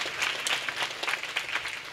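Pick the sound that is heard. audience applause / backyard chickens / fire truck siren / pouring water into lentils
audience applause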